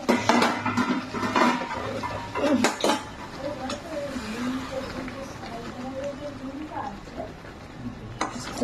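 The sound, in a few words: gently stirring cooked fish in a pan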